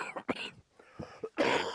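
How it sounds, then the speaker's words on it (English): A woman coughs in a radio studio during a morning news show, a few short, fairly quiet throaty bursts broken by gaps, ending in a louder, harsher cough. "she'll cough on it."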